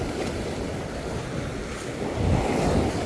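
Sea waves surge and wash onto the shore at Buan on the Korean coast, a continuous roaring wash mixed with wind buffeting, swelling louder near the end, with no voices.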